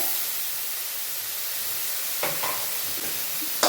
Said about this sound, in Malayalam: ഇതെല്ലാം കൂടെ ഒന്ന് ഇളക്കി യോജിപ്പിക്കുക കേട്ടോ.